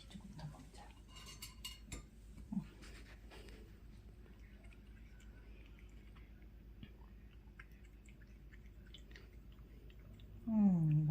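Someone eats eggplant with soft, close chewing and small bites, mixed with occasional clinks of cutlery and dishes, quiet and intermittent throughout, with a brief rustle near the end.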